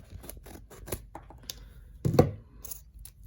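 A sealed mail package being cut open with scissors, giving a few short close snips and scratchy cuts with a louder rasping slice near the end.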